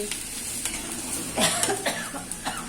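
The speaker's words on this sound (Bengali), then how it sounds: "আর একটু ধনে জিরে ফোড়ন দিয়েছি" Coriander and cumin seeds crackle and sizzle in hot oil for a tempering, with a short stir and a cough-like clatter partway through, close and moderately loud.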